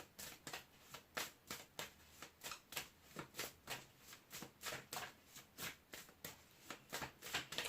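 Close, quiet riffling of tarot cards, rapid papery flutters repeating in a steady rhythm of many short bursts.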